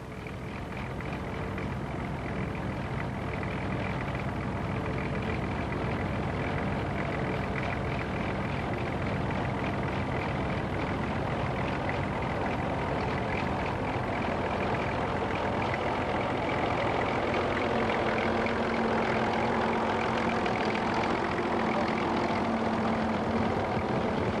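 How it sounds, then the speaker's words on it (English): A 1950 Fordson E27N tractor pulls a Ransom's 2-furrow Motrac plough, its engine rumbling loud and steady at close range for the whole stretch. "this E27N is working with a Ransom's 2-furrow Motrac plough"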